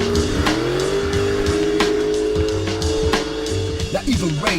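A car pulls away with squealing tires and a rising engine note, loud and close, over a steady music bed with voices around it.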